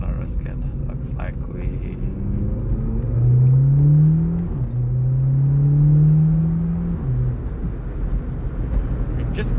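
A 2016 VW Polo 6C GTI with a 1.8 TSI engine (141 kW) and DSG gearbox accelerates hard, heard from inside the cabin. The engine drone climbs in pitch, breaks briefly at a gear change, then climbs again over road rumble.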